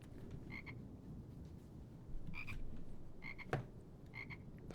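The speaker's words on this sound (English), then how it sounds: "The frog. Love it." A frog croaks in the Harry Potter GameCube game, several short bright croaking calls repeating at intervals over a low rumbling background, one near-sounding thump, no speech.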